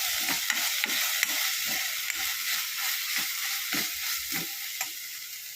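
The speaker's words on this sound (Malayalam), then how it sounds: "തക്കാളി, ഇഞ്ചി, കരിവേപ്പില, മല്ലിച്ചപ്പ്, കുരുമുളക്, വെളുത്തുള്ളി, ഇഞ്ചി എല്ലാം കൂടെ നമുക്ക് വഴറ്റിയെടുക്കാം." Tomato, ginger, curry leaves, coriander, pepper and garlic sautéing for a Kerala-style hibiscus tomato rasam, a continuous sizzle with a rhythmic run of spoon taps and scrapes against the pan, close and without talk.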